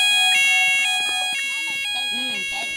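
Fire alarm in an Asda supermarket: loud repeating electronic tones and chimes ring through the shop, overlaid by a recorded announcement voice speaking over the alarm.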